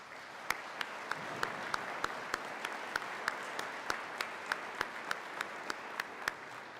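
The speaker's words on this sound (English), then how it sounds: "would you please offer a round of applause for their hard work" Faint, evenly spaced sharp claps roughly every third of a second over a low hiss, as if from a single pair of hands, in an ongoing ceremony for detention officers.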